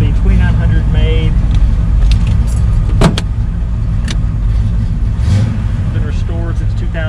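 Engine of a 1979 Pontiac Trans Am WS6 with a 400 V8 and four-speed manual, t-top, running loud and close with a rumbling low drone, revs shifting as gears change, a sharp click near the middle, voices talking over it.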